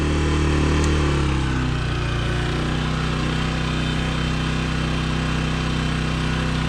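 An 800-watt gas generator in Thailand runs a 5000 BTU air conditioner, giving a loud, steady engine drone close by; its pitch drops about a second in as it idles down, then holds an even hum.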